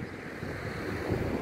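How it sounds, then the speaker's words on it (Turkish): Sea surf breaking on a warm beach, a soft continuous wash of waves mixed with wind noise, fairly faint and steady, no voices. "Tam karşısı sahil. Muhteşem güzel deniz."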